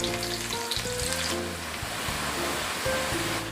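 Thinly sliced garlic sautéing in a pan, with a steady, close hiss of frying that holds continuously over a few seconds, accompanied by background music.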